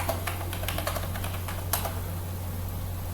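Quick bursts of keystrokes on a computer keyboard as a password is entered on an openSUSE Linux machine, close and clear over a steady low hum, uneven in rhythm with a few sharper taps.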